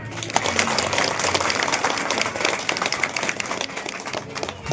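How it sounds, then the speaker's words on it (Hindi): An audience at a devotional Sudama-Krishna narration claps steadily, a dense, continuous patter of many hands throughout, fairly loud and close. "ताली बजा देना"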